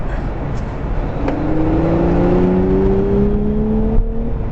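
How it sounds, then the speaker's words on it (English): A Nissan Z sports car engine rumbles steadily while a high turbo whine climbs slowly in pitch, loud and close. "you can hear the turbos a little bit, but definitely can't hear the engine at all"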